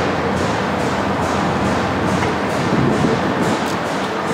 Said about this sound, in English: This is a German-made J&B Becker compressor, one of the best on the market